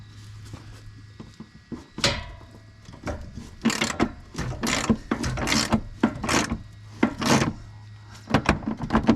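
A hand ratchet clicks in short bursts while working on the rear lift of a Jeep XJ, with metallic clacks and pauses between strokes, close and fairly loud, no talk.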